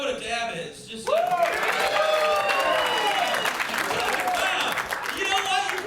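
Audience applause and cheering at a live comedy show, breaking out loudly after a quiet opening and rolling on steadily with a few chuckles mixed in, while a voice is heard over parts of it.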